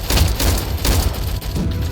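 Loud, dense rapid booms and blasts piling up in quick succession, a heavy continuous barrage of explosions up close in the Vietnam War game Rolling Thunder.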